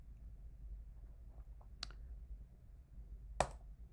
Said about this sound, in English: Click on browse.